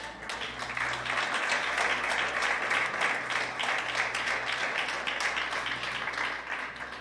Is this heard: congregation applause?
yes